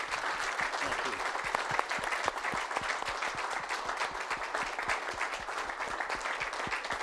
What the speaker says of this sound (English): That applause comes from the heart of a lot of people who love you.